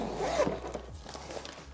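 A zipper drawn open on a luggage compartment of a suitcase, one close, short ripping pull lasting about a second amid quiet room tone.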